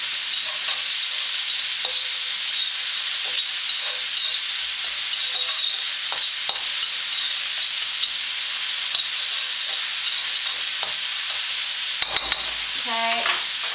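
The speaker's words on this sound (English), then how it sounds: "Just stir that one around for a bit." Asian noodle stir-fry being stirred in a pan, with a loud continuous sizzle and intermittent utensil scrapes and clicks, a burst of rattling knocks near the end, no voices.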